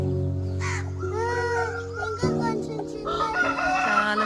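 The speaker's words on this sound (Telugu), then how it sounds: "కోడి వాళ్ళ మమ్మీ పిల్లలు ఉన్నాయి చూడు" Chickens in a village home garden, a hen with her small chicks, cluck and call close by in a short burst of overlapping bird sounds, with no speech.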